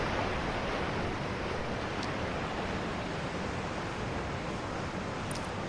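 Steady ocean waves and surf placed in PsychVR 3D audio, a dense unbroken wash of noise at constant loudness with no distinct breaking crests, running alone throughout.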